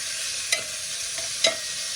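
Minced pork and garlic stir-frying in a pan with a loud, continuous close sizzle, broken by two sharp clinks of a spatula about a second apart, with no talking.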